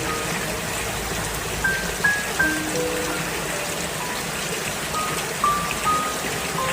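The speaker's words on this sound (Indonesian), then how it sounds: "Aduh, hujan lagi." Steady rain patters across the whole span, a soft constant hiss with a few faint beeps popping out above it.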